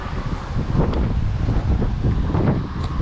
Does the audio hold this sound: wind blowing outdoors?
yes